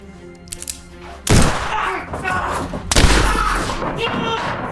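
Rifle gunshots in a Wild West film set in Oklahoma: two loud, sharp blasts about a second and a half apart, each followed by a long rumbling, reverberant tail, with no talking.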